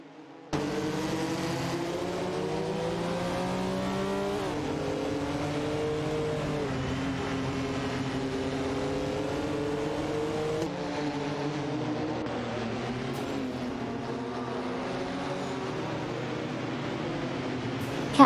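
Race cars in an AI-driven auto race, one overtaking another, heard as a loud continuous engine drone whose pitch rises and falls as the cars pass, lasting throughout with no voices.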